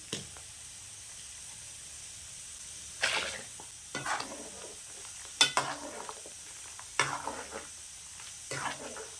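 Mutton curry with ground coconut and onion paste simmers quietly in a pot, with faint bubbling broken by a few soft scrapes and clinks of a spoon stirring it.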